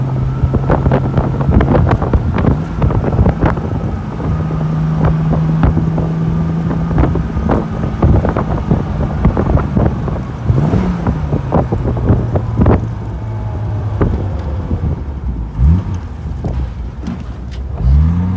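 A 1967 Jaguar 4.2 Series 1 Roadster on a farm-road test drive: a steady engine drone with rising and falling revs through gear changes, heavy wind buffeting the microphone throughout, loud and continuous.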